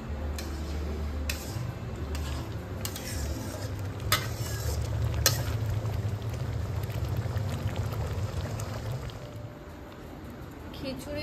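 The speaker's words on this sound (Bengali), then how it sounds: "জগন্নাথের ভোগ রান্নার খিচুড়ি অলরেডি প্রায় মাঝ রাস্তায়, এখন ডাল সেদ্ধ হচ্ছে" Dal simmering for Jagannath bhog khichuri, a low steady bubbling with occasional sharp clinks and taps, while someone talks over it throughout.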